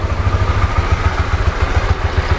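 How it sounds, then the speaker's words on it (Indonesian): A Honda CB150X motorcycle engine idles steadily up close, its low, even chugging pulses repeating rapidly with no voices over it. "kalau di langsamnya tidak ada suara baut bodi atau bodi yang kendor."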